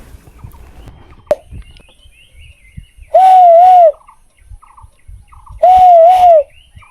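A person imitates a bird's calls with two clear whistled, warbling phrases, each under a second long, a few seconds apart, heard outdoors near the Mizoram border. A sharp tap comes before them and quiet background noise sits between.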